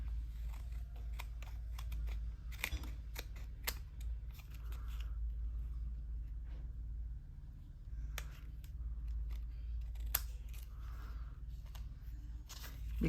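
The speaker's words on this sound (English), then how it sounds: "when you're cutting and things are starting to stick to your scissors" Scissors snip through paper strips in a quiet room, with scattered sharp close clicks and cuts coming in irregular bursts and pauses over a low hum.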